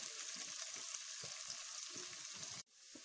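Chopped onion, green chili, ginger and curry leaves sizzle in hot oil in a pan, a steady broadband frying hiss with faint stirring scrapes, cutting out abruptly near the end before resuming softly.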